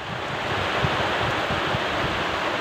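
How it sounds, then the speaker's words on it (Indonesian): Heavy rain and gusting wind over rice fields at night, a dense, steady roar of broadband noise with rumbling wind buffeting the microphone throughout. "diguyur hujan deras"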